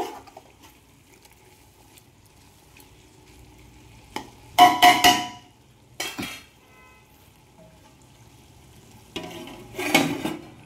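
Chicken pieces frying in oil in a pan, stirred in a few bursts of scraping and loud sizzling separated by quieter simmering, with no talking.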